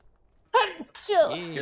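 A single person sneezes sharply, a short burst followed by a second voiced gasp-like exhale, close and clear against near silence.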